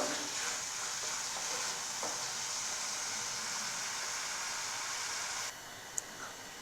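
Onions with salt frying in a pan, a continuous bright sizzle and hiss with occasional stirring scrapes, steady and close, ending in a quieter stretch with one sharp tap.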